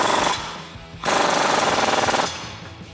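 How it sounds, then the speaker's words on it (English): Loud, close rattling hammer of an impact wrench driving a 36mm socket to tighten an axle nut on a 2012-2018 RAM 1500, two rapid bursts separated by a brief pause. "we'll tighten down our axle nut, grab your impact and 36mm socket"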